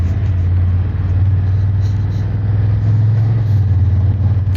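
Sunday morning street traffic in Bucharest, a steady low rumble of car engines passing at moderate distance, continuous and fairly loud with no voices.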